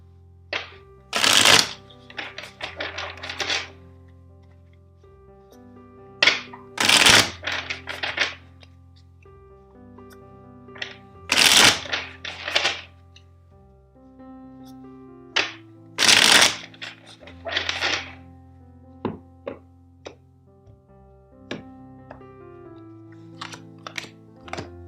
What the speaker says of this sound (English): First, let's shuffle the deck 4 times for you.